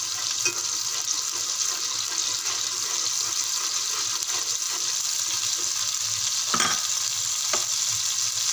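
Rice ingredients with garlic paste fry and get stirred in a pan, giving a steady loud sizzle over 8 seconds with a few sharp scraping clicks of the utensil near the end.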